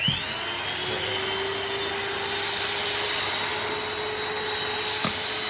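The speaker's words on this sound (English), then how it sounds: "Turn the whisk down. To the lowest setting." An electric mixer whisk runs at its lowest setting while mixing a sunken amaretto chocolate cake batter, giving a steady, moderately quiet motor whir that barely changes over a few seconds, with one faint knock near the end.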